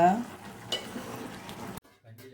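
Paneer pulao rice being stirred in a hot pan, close scraping and gentle sizzling that cuts out abruptly near the end, followed by a brief low sound.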